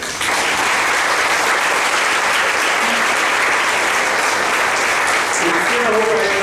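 Audience at an eighth-anniversary gathering applauds in a thick, sustained burst for over six seconds, steady and loud, with a few faint voices appearing near the end.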